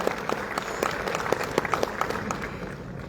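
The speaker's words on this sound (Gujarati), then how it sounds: "આપણે ખૂબ ખૂબ તાળીઓથી આ સર્જકના સન્માનને બિરદાવીએ," An audience at an award ceremony in Mahatma Mandir applauds a writer being honoured with a literary award, sustained crowd clapping with a few sharper nearby claps standing out, moderately loud throughout.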